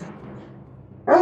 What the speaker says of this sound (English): That is such a wholesome bark.